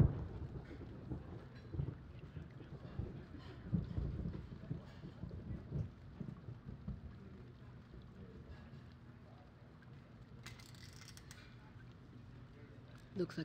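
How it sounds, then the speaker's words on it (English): Rain and rumbling thunder in The Pandora Directive video game, a low continuous rolling wash of storm noise with heavier swells early on, fading slightly toward the end. "Looks like the rain's letting up."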